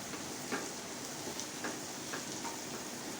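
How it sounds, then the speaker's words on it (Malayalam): Potatoes coated with turmeric frying in a pan, a soft steady sizzle under faint periodic scraping as they are stirred, quiet and close. "അപ്പോൾ നമുക്ക് തൊടി കളഞ്ഞു വെച്ചിരിക്കുന്ന പൊട്ടറ്റോ ഇതിനകത്തിലിട്ടൊന്ന് ഇളക്കി കൊടുക്കാം."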